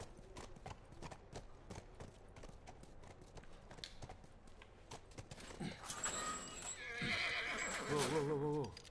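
Horse in a video game: steady clip-clop of hooves at a walk, followed near the end by a loud, close, wavering neigh, with no voices.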